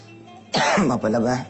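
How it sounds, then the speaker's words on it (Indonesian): Two close, harsh coughs in quick succession, with a short pause between them. "ini lagi batuk-batuk."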